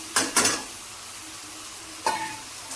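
Chopped ridge gourd dropped into hot spiced oil in a home kitchen, giving two quick crackling bursts near the start and another burst about two seconds later, with a low steady sizzle between them and no talking.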